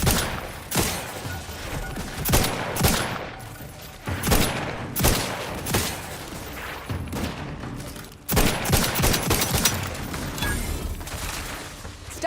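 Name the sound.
gunfire in the video game The Outer Worlds 2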